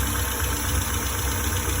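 A Morris Minor engine idling close by during SU carburettor adjustment, a steady low mechanical chug with faint uneven knocking and no clear change in speed.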